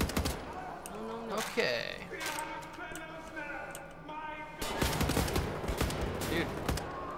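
Enemy gunfire crackles in bursts in Wolfenstein: The New Order, several shooters firing at once, with louder volleys in the second half while someone talks briefly over the shooting.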